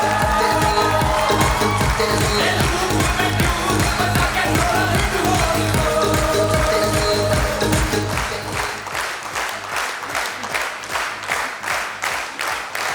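An audience at a business talk claps, starting in a dense burst with crowd noise and then settling into steady rhythmic clapping in unison, loud and close.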